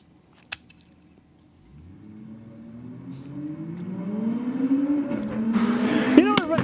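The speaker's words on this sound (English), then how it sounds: "nice strong burnout from 48 Evil down here" Drag car with a 4.8 litre six-cylinder engine doing a burnout at a drag strip, engine note rising steadily from a low rumble to a loud sustained roar with a sharp screech near the end, heard from a distance.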